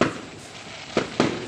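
Fiesta fireworks pop far off, one sharp burst at the start and two more close together near the end, over a faint steady background hiss.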